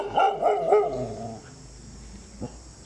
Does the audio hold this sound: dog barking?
yes